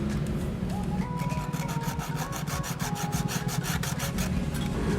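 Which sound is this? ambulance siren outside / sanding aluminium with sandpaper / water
sanding aluminium with sandpaper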